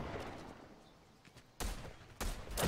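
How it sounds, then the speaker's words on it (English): A gun in Fortnite fires two quick consecutive shots, loud sharp bursts close together near the end after a quieter stretch of low rumble, with no one speaking. "we're gonna interrupt them with 2 consecutive shots"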